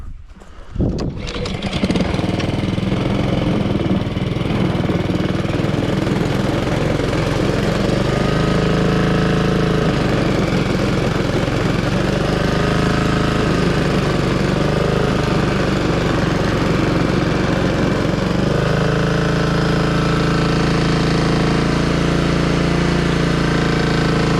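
A lawn mower engine runs loud and steady, starting up within the first couple of seconds and then droning continuously at close range with a rough, throbbing rumble, with no talk over it.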